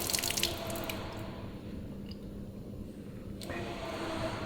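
Water splashes from a camper faucet into a sink, starting with a brief bright burst, then a steady faint trickle under low background hum that swells again near the end.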